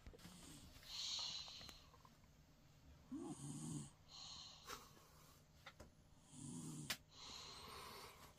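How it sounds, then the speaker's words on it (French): A person asleep snores softly in a quiet room, slow irregular breaths with a few rough snorts rising and fading, faint and close. "il ronfle."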